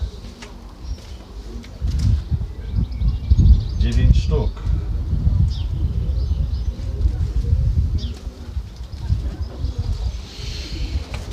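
Racing pigeons come in to a loft in England, with faint fluttering and bird sounds close by beneath someone talking throughout.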